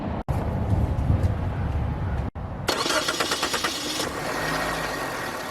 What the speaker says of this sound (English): Alright, let's start up the car.